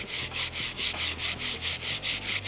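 Steady back-and-forth hand sanding with sandpaper folded four times over, kept flat on a wooden surface, in about ten even, close rubbing strokes with no talk.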